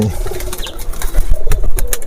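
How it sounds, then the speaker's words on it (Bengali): Many pigeons in a large loft of over 400 birds, with a low cooing rhythm and a few sharp bursts of wing flapping, fairly close and busy throughout. "বহুত কবুতর আছে, প্রায় 400-র উপরে কবুতর আছে"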